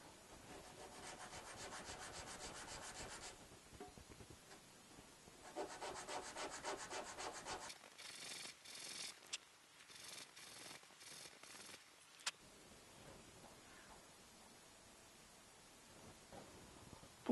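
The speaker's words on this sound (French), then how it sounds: "Un petit peu de ponçage." Hand sanding of wood in a joinery setting: steady rasping strokes in several bursts, some rhythmic back-and-forth passes, then quieter scattered rubbing toward the end, close and moderately soft, with no talking.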